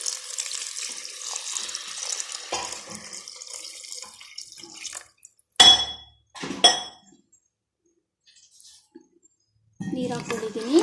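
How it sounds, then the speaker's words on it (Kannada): Water poured into a pot of drumstick (nuggekai) sambar splashes and clinks against the vessel for about five seconds, then a few short pours and metallic knocks follow with pauses between them. The sound is close and fairly loud, and no one speaks. "ಇವಾಗ ನೀರು ಹಾಕ್ತಿದ್ದೀನಿ"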